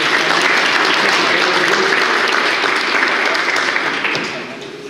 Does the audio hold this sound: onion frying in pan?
no